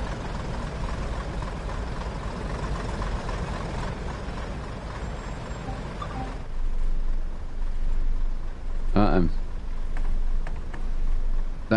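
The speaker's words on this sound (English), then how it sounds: "That's idling. That's ready to go." A diesel train locomotive idles in Train Sim World, a steady low engine rumble that grows louder midway, with a short whining tone near the end.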